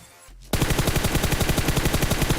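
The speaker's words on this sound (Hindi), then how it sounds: "और एक बंदा यार हल्की सी फायरिंग करता है सी बिल्डिंग के पास से" Rapid automatic gunfire near a building in PUBG, a dense, fast, evenly spaced burst of loud shots lasting about two seconds after a brief quiet lead-in.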